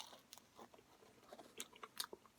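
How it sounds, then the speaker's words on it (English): Biting into a thick, doughy pan-style pizza crust from Oregano's Pizza, Brooklyn's Finest, medium size: a few faint, light crunches spaced across the bite, close and quiet, with no talking. "A light little crunch."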